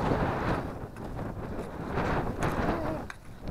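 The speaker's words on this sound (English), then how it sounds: "the wind is blowing that way though" Strong wind buffets the microphone on the Ruta de los Volcanes hiking route on La Palma, a steady, loud rumbling roar with gusts swelling and easing throughout, briefly dipping near the end.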